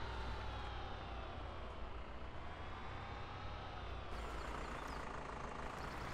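A tractor engine idling in the Farming Simulator 17 video game, a steady low rumbling drone that holds even and continuous throughout, quiet and without talking.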